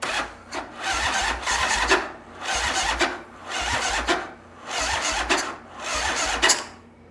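A chopper motorcycle engine cranks over and over without catching, about five rhythmic bursts of starter churning separated by short pauses, close and fairly loud with no talk.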